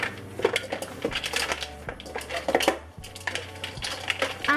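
Raisins are stirred into malida, a Trinidadian Eid dessert, with a spoon clinking and scraping against the bowl in irregular, close, fairly loud strokes and no talking.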